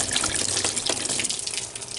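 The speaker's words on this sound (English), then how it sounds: "I've got some water here in this dish. And I'm going to pour it in there." Water poured from a dish into the water pump of a 50 hp Mercury outboard motor, a steady continuous splashing pour lasting the whole moment, close and fairly loud, easing off slightly toward the end.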